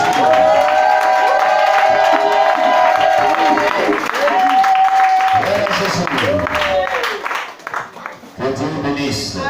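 A church congregation at an Easter service applauds and cheers for Jesus, loud dense clapping and crowd voices mixed with sustained singing or shouting tones, filling the whole stretch before thinning near the end.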